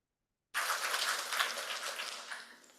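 A crowd at an arbitration law conference in India bursts into dense applause that starts abruptly from silence and carries on steadily for over two seconds, slowly thinning toward the end.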